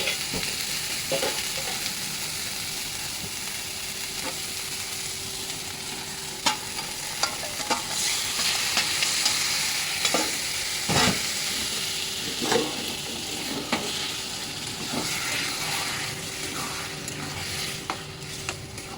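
Masala with mutton, onion and curd sizzles and fries in a kadai, with an ongoing hiss and scattered scrapes and clinks from a stirring spoon, heard up close.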